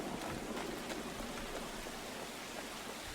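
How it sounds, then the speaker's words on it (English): Steady, even rainfall in the game Uru Live, a soft continuous hiss filling the scene with no distinct drops standing out and no voices over it. "Raining."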